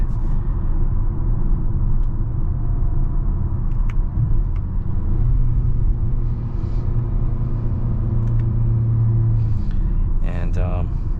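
A 2022 Mazda CX-5 with the 2.5-litre turbo engine, driving on the road; a steady, deep engine rumble with road noise continues throughout, close and fairly loud inside the cabin.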